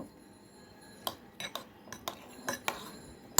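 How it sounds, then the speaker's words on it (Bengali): A spoon taps and scrapes in a bowl while raita ingredients with added black salt are mixed, giving several sharp, close clinks at irregular intervals over a quiet background. "সবকিছু খুব ভালো করে মিশিয়ে নেব।"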